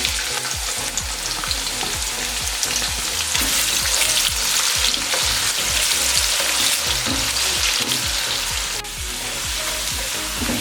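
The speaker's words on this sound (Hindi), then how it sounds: "अब इसमें प्याज शामिल करेंगे और इसको गोल्डन होने तक फ्राई कर लेंगे।" Chopped onion fries in hot oil in a pan for vegetable pulao, giving a loud, steady, close sizzle with soft rhythmic stirring thumps throughout and no talking.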